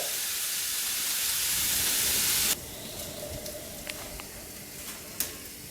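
Bacon and onion frying in a pan on high heat, a loud steady sizzle that cuts off abruptly to a softer crackle with scattered pops and a faint clink.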